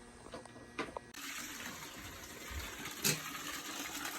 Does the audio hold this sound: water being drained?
yes